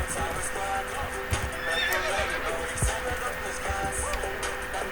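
A horse in a video game whinnies and snorts over steady clopping hooves, with busy game ambience and music filling the background throughout.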